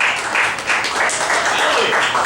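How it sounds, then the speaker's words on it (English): Loud, dense applause from a crowd welcoming a leader onto the stage at a Tabernacle gathering, steady and close with some voices mixed in. "Give him a round of applause"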